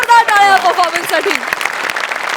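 A studio audience at a Marathi comedy show applauds a performance, a dense wash of clapping that swells in as a voice rings out at the start and then carries on steadily.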